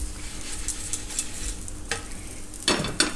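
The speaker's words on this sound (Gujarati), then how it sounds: "એક બાજુ શેકાઈ જાય પછી ફેરવી લેવું" Maize flour thepla roasts on a hot griddle with a soft, steady sizzle up close, then a couple of louder scrapes and hisses near the end as the bread is turned.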